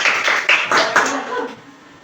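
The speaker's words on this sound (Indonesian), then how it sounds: "Tepuk tangan dulu." Applause in a classroom: a run of sharp, evenly spaced claps at a steady beat, fairly close and loud, then fading out with no talking.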